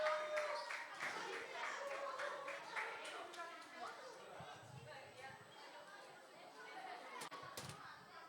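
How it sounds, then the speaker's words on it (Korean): Applause for a children's choir at an elementary Sunday school service: scattered, moderately loud clapping from a small congregation, mixed with chatter and children's voices, fading a little toward the end. "그리고 우리 수고한 어린이 찬양대 위해서도 박수로 격려하겠습니다"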